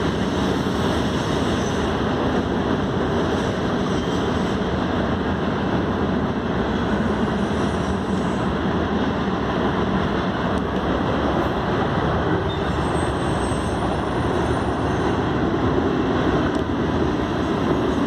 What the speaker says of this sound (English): Train that's came through here today.